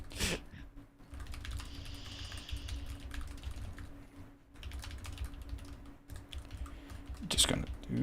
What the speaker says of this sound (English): Just gonna do some angry typing.